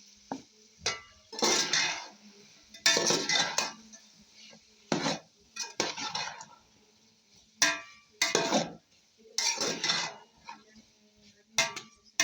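Cauliflower added to a pan for a Filipino chicken chop suey, with clattering pot and utensil knocks and stirring in bursts, loud and close, separated by short quiet gaps.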